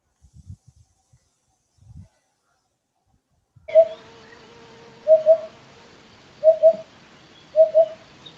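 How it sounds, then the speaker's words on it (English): Greater coucal giving its deep resonant call, a series of paired hollow hoots repeated four times at roughly even intervals, fairly close, after a few faint bumps and near silence. "They have a familiar deep resonant call which is associated with omens."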